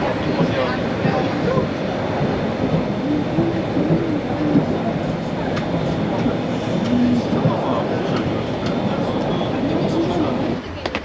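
Steady rumble of a tram in motion in Warsaw, Poland, with rattling and clatter throughout and voices talking over it inside the carriage.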